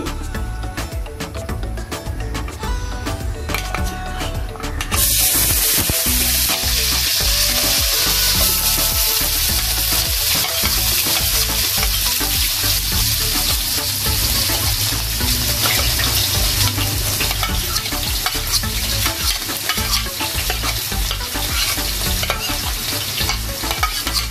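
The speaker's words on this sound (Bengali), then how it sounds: "তো আমার তেলটা গরম হয়ে গেছে এই পর্যায়ে আমি পেঁয়াজ কুচি আর রসুন কুচি দিয়ে দিচ্ছি" Chopped onion and garlic drop into hot oil over medium-low heat for a katla fish dish. After a quieter start, a loud, steady sizzle bursts in and continues with stirring scrapes, close and without talk.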